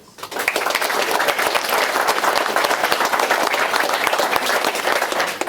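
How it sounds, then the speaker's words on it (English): Audience applause at a state commission ceremony honoring East Texas veteran-service grant recipients, steady dense clapping from a large crowd that swells in quickly and holds loud and even throughout. "let's all give another big round of applause"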